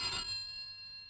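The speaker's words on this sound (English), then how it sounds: "A phone call." A telephone rings once at midnight. The single bright, trilling ring is faint and fades quickly, with no voices.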